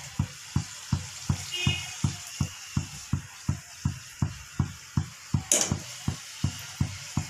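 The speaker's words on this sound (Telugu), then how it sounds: "బాగా బ్రౌన్ కలర్ వచ్చేంత వరకు వేయించుకోవాలండి." Dough pieces deep-fry in hot oil until brown, a soft sizzle under a steady rhythmic knocking about three times a second, close, with a brief clink midway.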